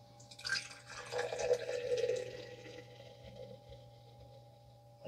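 A 7% double milk stout from Arbor Brewing of Ypsilanti, Michigan, is poured into a glass, a soft liquid gush building then easing into quiet fizzing as the head settles.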